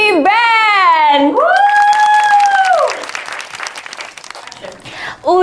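Audience applause for a band's performance at an MC school event in Surabaya breaks out partway through, a dense wash of clapping with some cheering that follows a loud, drawn-out vocal shout or tone.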